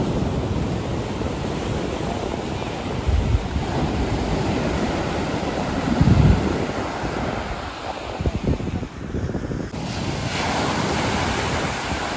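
Rough Bay of Bengal surf rolls onto the long city shore of Marina Beach in Chennai, a steady wash of waves mixed with gusty wind buffeting the microphone, with a few heavier surges.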